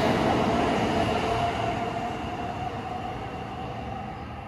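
A Sakura Shinkansen train passing through Omuta station, a loud rushing rumble with a faint whine that gradually fades as it moves away, heard alone.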